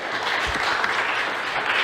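A church congregation claps together in a steady, dense wash of applause that holds evenly through the short stretch, with no talk over it.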